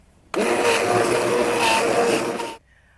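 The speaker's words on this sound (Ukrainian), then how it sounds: "Блендеруємо." A blender runs steadily at high speed for about two seconds with a loud, dense whirring roar while pureeing apples, then cuts off abruptly.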